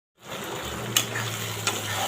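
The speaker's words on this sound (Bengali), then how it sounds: "এখানে টমেটোও দেওয়া হয়ে গেছে আর সেটাকেও ভালো করে কষাচ্ছি" Tomatoes and onions sauté in a pan with a steady, close sizzle and two brief stirring scrapes, and no voices.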